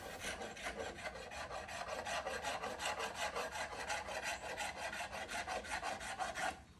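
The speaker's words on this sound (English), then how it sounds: "After I scrape off as much of the finish as I can" A hand scraper is rasped rhythmically across an antique wooden chest of drawers, lifting old finish from a 100+ year old Neoclassical French piece, a steady back-and-forth scratching of about two strokes a second, close and continuous.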